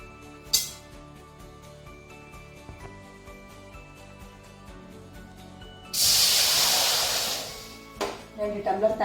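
Water is poured into a hot pan of roasted semolina with ghee for rava kesari, setting off a loud, sustained sizzling hiss that starts abruptly and fades away, followed by faint clatter.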